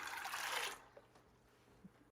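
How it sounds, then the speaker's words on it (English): Cold fresh water runs into a cooking pot to fill it for soaking beans, a steady broadband rush that stops abruptly partway through, leaving a quiet room with faint small clinks. "Cold fresh water right to the top."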